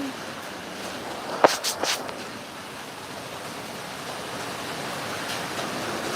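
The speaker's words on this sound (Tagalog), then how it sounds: "Ang okay ng ulan!" Steady rain falls in an even, full hiss throughout, with a brief burst of voices or laughter near the start.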